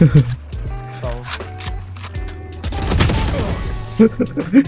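Rapid gunfire bursts from the video game Valorant crackle loudly through the middle of the clip, mixed with game sound effects and layered under excited players talking over voice chat.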